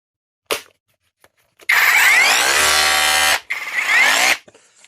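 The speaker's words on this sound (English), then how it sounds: "today we actually got a new tool to our shop, and it's the ACROPOW Rotary drill from Amazon" An ACROPOW cordless rotary hammer drill powered by a DeWalt power stack battery gives a short blip, then runs loudly for about two seconds, briefly winds down and spins up again before stopping.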